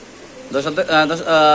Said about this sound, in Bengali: এই যে এটা কুরকুরি করতেছে ভাই অনেকক্ষণ ধরে কুরকুরি করতেছে